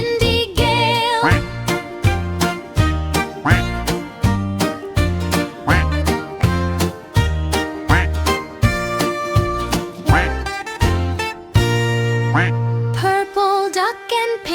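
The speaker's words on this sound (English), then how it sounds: "Four green ducks near a tree, quack together" Cartoon-style duck quacks bounce in a steady rhythm over an upbeat, bright children's song melody with tinkling accompaniment, the quacks loud and close throughout.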